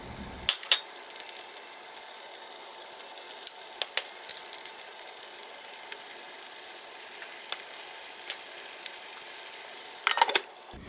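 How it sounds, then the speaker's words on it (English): Garlic and sliced tomatoes cooking in a pan with salt and pepper, a soft continuous sizzle with scattered crackles and pops, a brief louder stir near the end, no voices. "Stir in the garlic and cook for a minute. Add sliced tomatoes and the rest of the salt and pepper and cook for 2 to 3 minutes."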